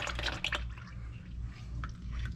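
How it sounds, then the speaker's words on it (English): Used engine oil dripping and trickling from a vehicle's engine after the oil filter is spun off during an oil change, a steady wet patter close by over a low background hum. "we can spin it off, let the oil drip out"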